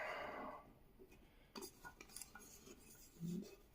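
Metal camping cook set pieces for an MSR PocketRocket stove being handled, with light clinks and scrapes of pots and utensils, close and fairly quiet, in short separate bursts.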